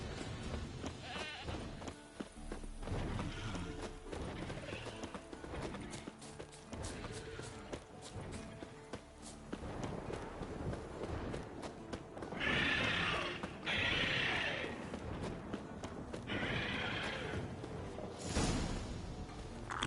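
A purebred Kedwenny warhorse named Scorpion in The Witcher 3 neighs in a couple of loud, shrill bursts midway and near the end, over busy game sounds with hoofbeats and clatter throughout.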